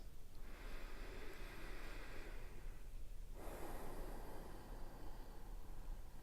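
A person takes slow, deep breaths during a guided relaxation, with one long hissing inhale followed by a long, steady exhale, close and alone against a soft background hiss.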